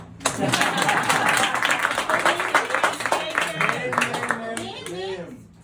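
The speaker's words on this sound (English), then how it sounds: "Clap for him." An audience claps during a talk about Zambia, giving a quick burst of many hands that stays dense and lively for several seconds before thinning and fading, with voices mixed in.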